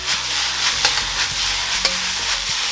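Hong Kong style beef chow fun noodles stir-fried in a wok with very little oil, a steady close sizzle broken by several sharp scrapes and tosses of the spatula against the metal.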